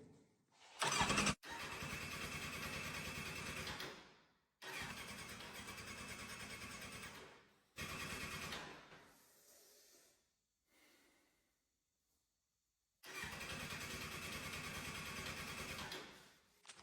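A motorcycle engine is cranked in repeated starter bursts of about three seconds each, separated by pauses, but it never catches and runs; the bike is a cheap wreck under restoration, hotwired for the attempt, and seems to lack compression.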